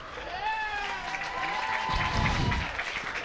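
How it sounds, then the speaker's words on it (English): A college football crowd at Bridgewater State cheers and applauds at a game against Framingham State, a broad roar rising under a commentator's voice. "The Bridgewater crowd very happy about that one"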